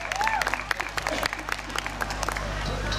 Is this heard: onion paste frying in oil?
no